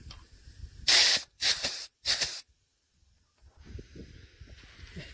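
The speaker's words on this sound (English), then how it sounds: "Automatic grease gun." An automatic grease gun greasing an offroad bumper gives three short hissing, spraying bursts in quick succession, followed by quieter rustling handling noise.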